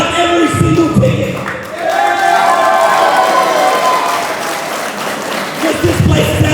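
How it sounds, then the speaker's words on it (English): A sold-out crowd at a Mayhem Pro wrestling show cheers, screams and claps steadily for the whole stretch, with a dense, continuous roar of applause and shouting close around. "Thank you for screaming, thank you for cheering, thank you for clapping"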